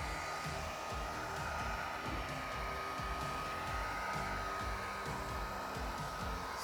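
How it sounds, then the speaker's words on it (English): A heat gun blows steadily while vinyl wrap goes onto a Cybertruck frunk, a continuous airy roar with a faint whine that holds level and close for the whole stretch, no voices over it. "Same thing, you wanna turn on your heat gun."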